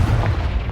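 A Confringo fire spell bursts in Hogwarts Legacy, a short, loud, dense boom with crackling low rumble filling the whole moment, no voices over it.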